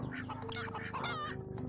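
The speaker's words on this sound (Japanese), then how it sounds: "恐怖のニワトリループだ。" Chickens cluck and squawk in the video game Cat Simulator, busy overlapping calls over a steady tonal backdrop.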